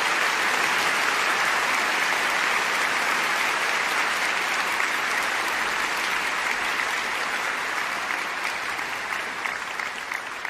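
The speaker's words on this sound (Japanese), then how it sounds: "もう一度大きな拍手をお送りください。" Sustained applause from a large concert audience, steady and dense clapping that continues for the whole stretch without a break.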